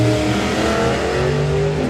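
A Ford Mustang drag racing car at Santa Pod Raceway roars with a loud, steady engine note at high revs, close by and with no talk over it.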